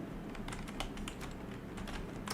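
Quick, uneven key clicks from a computer keyboard as someone types a command during a Windows 11 USB install, with close, crisp taps in bursts and no voices.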